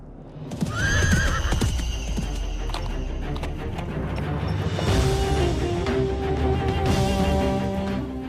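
A horse of the Ashwamedha sacrifice neighs loudly, with a rising whinny near the start, hooves clip-clopping and ringing tones over steady ambience throughout.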